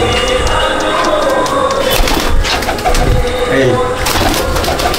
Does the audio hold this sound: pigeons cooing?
yes